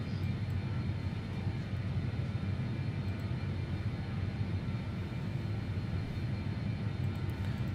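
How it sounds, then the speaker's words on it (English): The engines of a BAE 146-100 jet airliner on approach to Mexico City give a steady, continuous drone, a low rumbling roar that stays even and fairly quiet throughout with no voices over it. "Those engines sound like E190s?"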